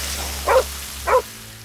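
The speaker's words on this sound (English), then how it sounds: "there's a puppy dog who wants to get through" A puppy dog in a hidden-object adventure game gives two short, close barks about half a second apart over a low background hum.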